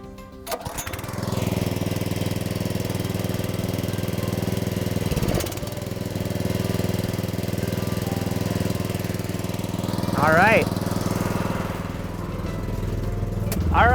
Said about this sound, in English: now I'm gonna turn on the hydraulic pump so we can get started.